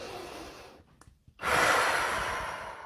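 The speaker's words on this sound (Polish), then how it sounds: "Głęboki oddech." A single deep breath in and out during a guided relaxation exercise: a soft inhale, a brief pause, then a louder, longer exhale, close and alone.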